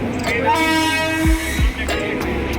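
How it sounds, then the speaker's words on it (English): A passenger train sounds its horn at a station platform on a Mumbai route: a loud, sustained blast with a second, shorter toot, over rumbling rail noise and background voices. "This is my train."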